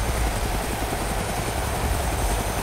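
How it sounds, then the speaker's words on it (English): Helicopter in the DayZ video game, a steady loud rotor chop and engine roar filling the whole stretch, heard close by with no voices over it. "The heli's gonna come on top of you!"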